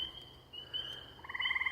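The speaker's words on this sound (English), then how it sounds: "That trilling is the tree frogs, the pipping is the peepers" Tree frogs trilling alongside the high, steady pipping of spring peepers in a late-May chorus in Maine, the trill swelling into pulsed bursts near the end over a faint background.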